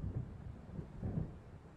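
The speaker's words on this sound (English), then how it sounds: "It seems there's a storm coming." Low rumbling storm thunder rolls in the Alan Wake video game, a faint, distant, continuous grumble with a couple of heavier swells, mixed with soft wind and rain noise.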